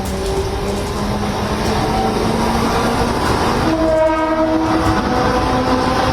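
An electric commuter train rolls slowly over rain-flooded tracks at Chunabhatti station in Mumbai during heavy rain, a loud, continuous close rumble with sustained tonal whines and a horn-like note around the middle, no voices.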